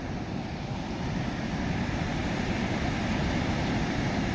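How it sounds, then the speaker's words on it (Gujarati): Flood water from the overflowing Ozat river rushes past near a village, a loud, unbroken roar of churning water with some wind buffeting the microphone. "એટલું ભયંકર પાણી છે."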